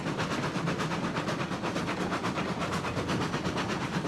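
A train rolling along rails in a train video game, a steady rumbling run with a regular clickety-clack rhythm, moderately quiet and unbroken throughout.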